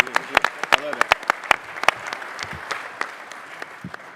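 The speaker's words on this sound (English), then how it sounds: "Round of applause." Audience at a school empowerment day event applauding: scattered, fairly light clapping with distinct individual claps, a moderate crowd rather than a roaring ovation, with a voice cheering over it.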